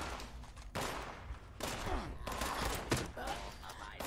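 Fallout 76 gunfire against Scorched enemies: several loud bursts of shots crack in through about four seconds of busy combat.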